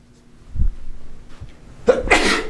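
One sharp, loud sneeze bursts out near the end after a few quiet breaths and shuffles in an otherwise calm room during a physics lesson.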